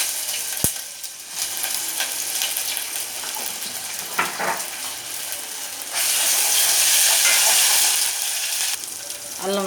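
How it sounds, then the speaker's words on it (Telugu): A spoon of ginger garlic paste frying with bay leaves in a pan for a potato kurma, a loud continuous sizzle with occasional stirring scrapes, swelling louder and hissier for a few seconds near the end. "ఇప్పుడు అల్లం వెల్లుల్లి పేస్ట్ 1 స్పూన్ వేసుకున్నాం."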